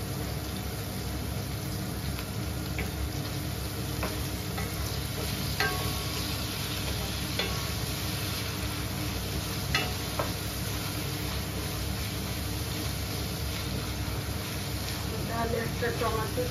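Ginger garlic paste sizzles and fries steadily in hot oil in a home kitchen pan, a continuous crackling hiss with faint stirring clicks throughout, heard up close.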